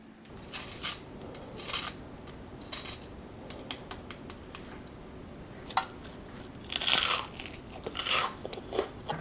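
Crisp, crunchy bites into fried strawberry menbosha, shrimp-toast style bread fried golden in oil, come as a series of close, loud crunches in irregular bursts with softer chewing between them.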